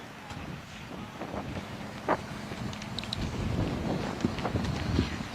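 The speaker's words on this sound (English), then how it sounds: "it's extremely windy here" Strong wind at a golf course during a women's professional championship round buffets the microphone in a steady rough roar with occasional gusts and faint distant sounds.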